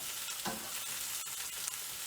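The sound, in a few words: onions and scallions caramelizing in a pan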